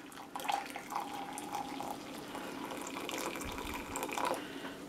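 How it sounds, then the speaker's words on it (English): Hot water, boiled a while before, is poured into a measuring cup for a trisodium phosphate solution, producing a quiet, steady close-up trickle and gurgle that runs for several seconds with no talking. "we are going to add 1 cup of hot water"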